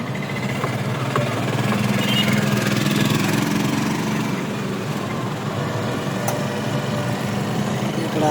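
A motorbike engine idling steadily close by, a continuous low rumbling drone with slight fluctuations and faint clicks, loud and alone without talk.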